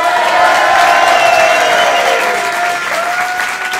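A comedy contest show's audience breaks into loud, sustained applause with cheering and whoops, a thick continuous roar of clapping that eases slightly toward the end.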